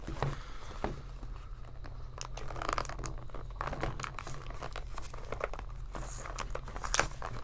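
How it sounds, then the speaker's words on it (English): A cardboard box of Paqui One Chip is torn open by hand outdoors in Florida heat, with irregular ripping, crinkling and scraping noises close up over faint background ambience. "About to rip the box open."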